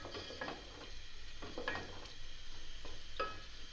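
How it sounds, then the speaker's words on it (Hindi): Meat for aloo gosht sizzles in half a cup of oil while being stirred and browned, a soft continuous frying hiss broken by a few scraping clinks of a spoon against the pot. "अब इसको अच्छी तरह भूनते हैं"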